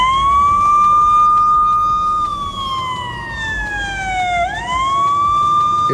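An emergency siren plays from an iPad held right beside a pair of Samsung Galaxy Buds 3 Pro earphones. It is loud and sustained, with a long wail that slowly slides down, dips, then sweeps back up, and no voices.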